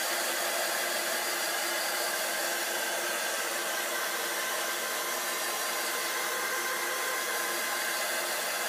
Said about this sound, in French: Et je viens sécher au fer embossé ensuite pour accélérer.